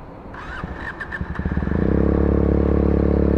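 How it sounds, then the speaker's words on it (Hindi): Benelli 300TNT motorcycle fitted with an Akrapovic long-can exhaust starts up and settles into a loud, steady, close-up idle with a rapid even pulsing burble, after a few clicks and clatters at the start. "तो ये बाइक की आइडल साउंड"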